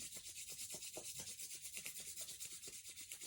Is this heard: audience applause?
no